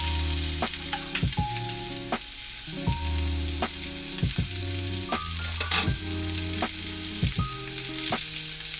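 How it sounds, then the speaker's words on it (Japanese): Meat searing at the hot outer edge of a pan at roughly 200 to 300 degrees, a loud continuous sizzle broken by sharp knocks and scraping as the pieces are handled. "ちょっとね、ヘリの方の温度の高いところでまず一気に焼き色をつけていきます"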